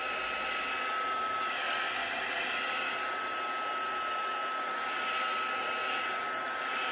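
A heat tool drying ink on craft paper: a steady, loud whirring blower hiss with a high whine, constant and unbroken, with no talking.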